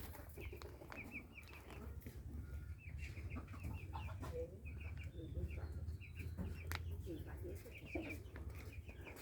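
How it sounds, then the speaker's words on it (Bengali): Local country chickens on a poultry farm cluck and chatter repeatedly in a busy, overlapping flock, heard fairly close over a low steady background hum. "সব দেশি মুরগি এখানে।"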